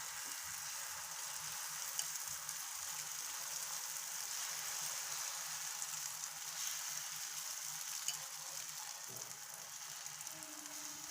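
Egg batter poured into a buttered pan for a roadside cheese bread omelette fries with a soft, even, continuous sizzle over roughly eleven seconds, fairly faint and without talk.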